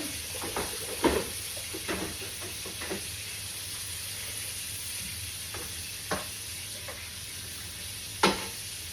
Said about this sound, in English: We have that ham steak on. Going to cook that on low.